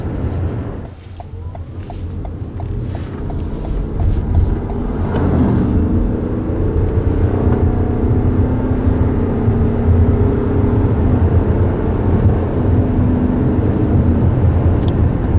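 A 2021 Toyota RAV4 Hybrid with an eCVT transmission accelerates, heard from inside as a steady rising engine drone and road rumble that builds and then holds, with no talk.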